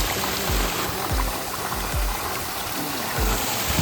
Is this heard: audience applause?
no